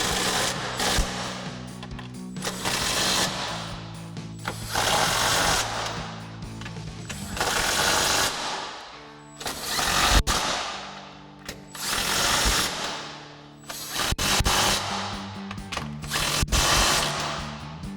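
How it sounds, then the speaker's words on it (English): Impact wrench with a 14mm socket tightening hardware on black 6-inch running boards for a 2019-2023 Chevrolet Silverado 1500, loud repeated rattling hammering bursts of a few seconds each separated by short pauses, close and alone. "we'll go ahead and take our 14mm socket on our impact and tighten down our hardware"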